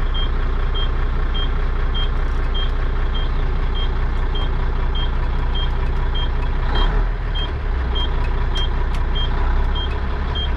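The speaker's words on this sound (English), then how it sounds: "Got my little air warning light going off." A low-air-pressure warning sounds in a truck cab as a steady train of short, evenly spaced high beeps over the loud, constant rumble of the idling engine.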